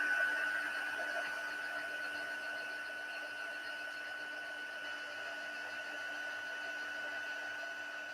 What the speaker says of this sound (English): So the main tip with embossing is to make sure that you just wait until you see it start to bubble and then it goes smooth